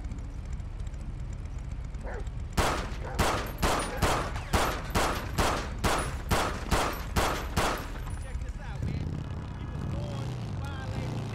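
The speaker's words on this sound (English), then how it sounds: "we just popped that car with a ton of gunshots" Rapid burst of about fourteen sharp gunshots fired at a parked car in the police video game Dept. of Justice Cops, evenly spaced and loud over a low ambient rumble, with quieter background noise before and after.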